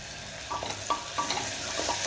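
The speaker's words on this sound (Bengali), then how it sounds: "এবার কাঁচা পেঁয়াজগুলো আমি কুকারে দিয়ে দেব, দিয়ে ভালো করে আমি কষিয়ে নেবো।" Raw onions sizzling in hot oil inside a pressure cooker, with a steady background hiss broken by several short scraping stirs, close by and moderately quiet.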